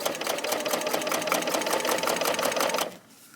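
A Bernina L890 sewing machine stitches along a quilt edge while trimming the wadding, giving a fast, steady mechanical rattle of needle strokes for just under three seconds before stopping abruptly, close and clear.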